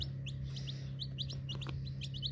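Several small green-legged chicks in a box cheep continuously in high, quick peeps over a low steady hum, close by and moderately quiet.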